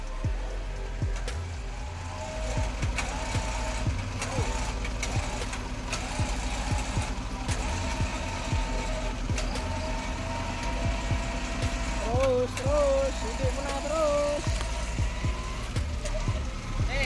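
A Toyota Fortuner 4x2 engine holds a steady throttle off-road, a continuous low drone with rattling knocks and jolts running underneath, while people talk over it in the cabin.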